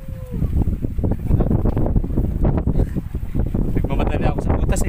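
Strong, steady wind roars and buffets the microphone on an island shore by the sea, loud and continuous throughout with a faint voice briefly underneath.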